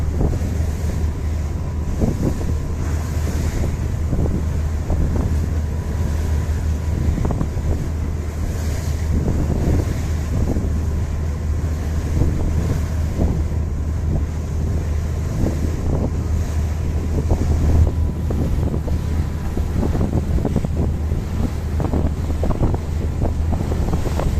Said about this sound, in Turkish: Bayağı rüzgar alıyor.